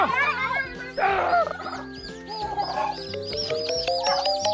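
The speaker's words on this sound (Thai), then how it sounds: "อันนี้แม่ไก่งวงนะครับ" A hen turkey gobbles and calls as it is caught, with repeated rising bird cries over scuffling, and other fowl calling nearby.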